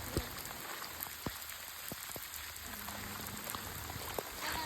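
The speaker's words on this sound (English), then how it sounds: "I walk in the rain." Light rain patters steadily on a surface, with occasional sharper drips standing out against a soft continuous hiss.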